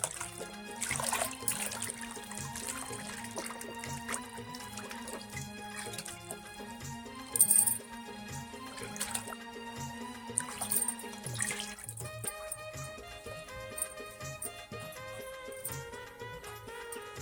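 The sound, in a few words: washing clay cooking pots in water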